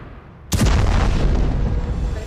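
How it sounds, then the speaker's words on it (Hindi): A powerful explosion from an Iranian missile strike near Ashdod, Israel erupts as a sudden loud boom, then a dense, roaring rumble that keeps going for nearly two seconds. "धमाका इतना जबरदस्त था कि इलाका धुएं और धूल के गुबार से भर गया"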